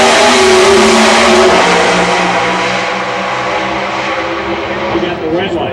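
Drag racing cars, a Mopar among them, roar loudly as they launch at the strip, the engine noise peaking early and then fading somewhat while staying continuous to the end.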